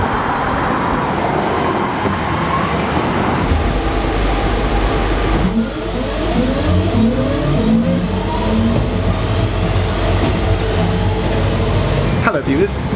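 A train pulls up at a station platform with a loud rumbling roar and a sweeping rise and fall in pitch as it moves. A brief squeal sounds near the end.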